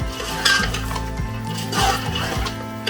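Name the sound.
spices being stirred and fried in pot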